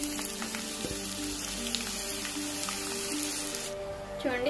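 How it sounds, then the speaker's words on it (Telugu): Chopped onions frying in hot oil in a pan, with a continuous close sizzling hiss and faint tones underneath. The hiss eases near the end. "ఇప్పుడు ఈ ఆయిల్ అనేది వేడైనాక మనం ముందు కదిసి పెట్టుకున్న ఆనియన్స్ వేసుకోవాలి"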